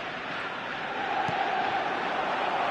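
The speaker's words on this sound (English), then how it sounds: "The crowd are calling for this to be put to bed." Steady roar of a football stadium crowd in the video game eFootball, a dense, continuous wash of massed voices that swells slightly midway, with no distinct chants standing out.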